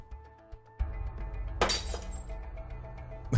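Glass shatters in the video game A Way Out: a sharp, bright crash midway with scattered tinkling shards afterwards over a low ambient background, no talking.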